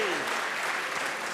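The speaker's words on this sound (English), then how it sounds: "Please give a big cheer for each of these." Applause rolls through the hall at a 2022 freight industry awards ceremony as Apprentice of the Year finalists are named, a dense, steady clapping that holds at an even level throughout.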